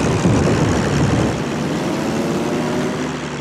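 Propeller fighter plane in World of Warships, launched from the carrier Shokaku, droning steadily and fairly loud, with a low engine rumble that swells slightly at the start and then holds even.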